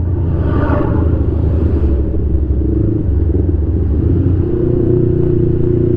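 A Yamaha MT-25 motorcycle engine rumbles steadily throughout a ride, a continuous low drone with steady road and wind noise and no break in loudness.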